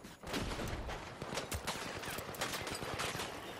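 Dense, continuous gunfire from The Finals video game, with rapid automatic bursts and overlapping shots sustained at a steady loud level throughout, with no voices.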